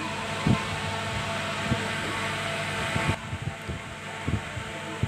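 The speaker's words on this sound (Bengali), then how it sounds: "এটা একটু প্লাস্টিকের বা কাঠের হাতুর দিয়ে বা উডেন হাতুর দিয়ে একটু বাড়ি দিতে হয়" A wooden mallet taps on an electric motor coil with dull, low thuds about once a second, heard over a steady background hum.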